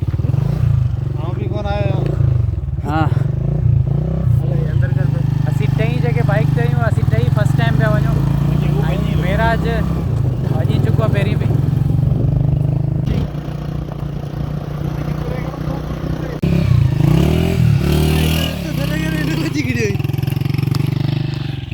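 Motorcycle ridden up a rocky hill on a trip to Kaary Jabal, its steady mid-pitched engine running throughout and rising briefly near the end, with people talking over it much of the time.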